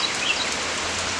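Rain falls steadily in Hot Springs, Arkansas, as an even, close hiss of drops with no voices over it.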